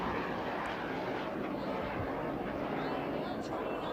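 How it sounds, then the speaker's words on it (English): An aluminum L-29 jet race aircraft departs at an air race in Roswell, New Mexico, its engine a steady broadband roar heard under continuous commentary. "our aircraft are all departing, like we said, in race qualifying order based on speeds on previous races"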